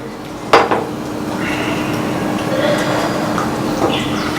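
Fish curry stirred in a pot, a sharp metal knock at the start followed by steady scraping and soft clinks of a spoon against the pot, close and moderately loud.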